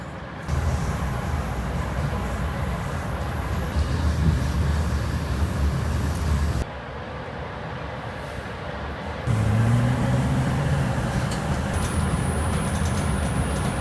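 A loud, steady rumble of a passing Amtrak train, with abrupt shifts in the noise and a brief tonal hum near the end.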